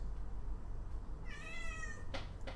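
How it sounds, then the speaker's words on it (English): A cat gives a single drawn-out meow with a falling pitch, close to the microphone over steady low room hum, followed by a couple of brief soft rustles. "I'm gonna pick this cat up. This cat's gonna be upset about it."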